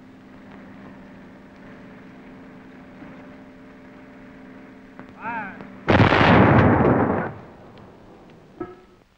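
A 75mm pack howitzer fires one loud, sustained booming blast after a short rumble, with a brief sharp report following, over a low steady background hum.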